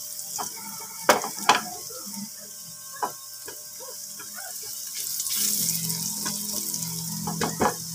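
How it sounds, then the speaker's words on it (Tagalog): Garlic fries in a pan, cooking toward golden brown for buttered shrimp, with a quiet sizzle broken by sharp clicks and clatters of utensils, growing into a steadier fry toward the end. "Kulahin natin yung bawang, guys. Hanggat mag-golden brown siya."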